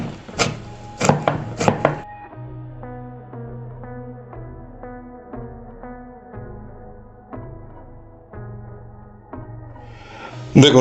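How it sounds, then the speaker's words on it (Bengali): Fresh ginger is chopped finely with a knife: a quick run of about five crisp, hard chopping strikes on a board, close and loud, then a long stretch of steady tonal sound before a brief burst of noise at the end. "আদাগুলোকেও আমি রসুনের মতোই কুচি কুচি করে নেব।"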